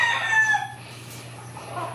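A hammerfoot hatch gamefowl rooster crows briefly and close by, the call fading out after under a second over a steady low hum.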